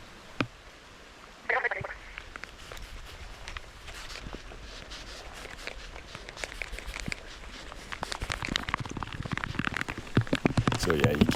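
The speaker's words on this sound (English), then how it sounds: "you can hear the rain starting up again now" Rain starts falling in the jungle as a steady patter on leaves and surfaces, building gradually from faint to denser drops, with scattered nearby thuds and a voice speaking briefly.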